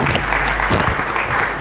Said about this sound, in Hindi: इनके लिए एक बार जोरदार ताली हो जाए